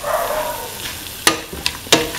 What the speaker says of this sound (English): mix in the green peas with the rest of the mixture.